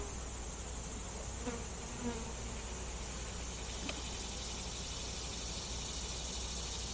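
Honey bees swarm at an open beehive with a steady, dense buzzing drone that fills the whole stretch, a few individual bees passing close now and then; no talking.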